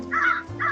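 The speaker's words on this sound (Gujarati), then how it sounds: "કાગડો તેની પાસે જઈ કા કા કરવા લાગ્યો." A crow caws twice in quick succession, loud and close, two harsh nasal calls with a short gap between them and nothing else heard.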